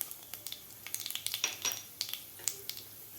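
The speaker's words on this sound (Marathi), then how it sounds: "आता व्यवस्थित आपल्याला हे मसाले हलवून घ्यायचे आहेत।" Whole spices such as fennel, fenugreek, cumin and mustard seeds sizzle and crackle in hot oil in a pan while being stirred, with scattered sharp pops and scraping over a steady fry, close and alone.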